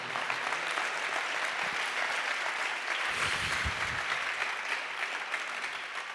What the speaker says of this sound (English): Somebody clap your hands to the Lord.